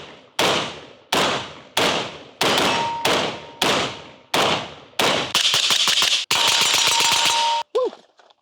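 A Caracal CAR816 rifle firing during a test: eight sharp, loud single shots spaced about a second apart, then rapid strings of fire that end abruptly, followed by a metallic ring.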